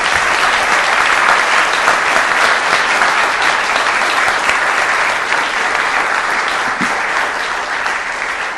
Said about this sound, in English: So let's give a round of applause to these gentlemen.